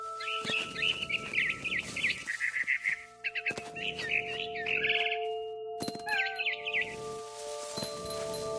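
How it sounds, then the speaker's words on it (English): Barn swallow chirping in What Remains of Edith Finch: bursts of bright, rapid twittering recur through the clip over steady tonal hums, fairly close, with brief pauses between phrases. "Then I heard chirping outside my window. It was a barn swallow going back to her nest."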